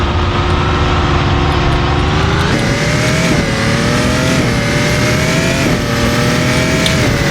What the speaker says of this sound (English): They use a bit of hybrid energy there to accelerate away.